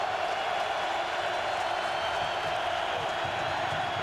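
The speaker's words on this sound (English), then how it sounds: "Noisy crowd just got noisier." Large stadium crowd at an NFL game between the Pittsburgh Steelers and Baltimore Ravens, a steady dense roar of many voices filling the whole stretch without breaks.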